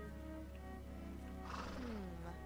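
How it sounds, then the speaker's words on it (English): Horses whinnying in the video game A Plague Tale: Innocence, a clear neigh rising and falling near the end over a steady low game ambience, with no talking. "should I startle the horses?"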